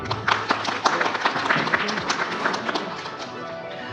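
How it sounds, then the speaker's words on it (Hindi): An audience at a peace conference in India claps, with distinct close claps and taps over a busier crowd background, loud at first and thinning out toward the end as voices murmur. "जोरदार तालियां।"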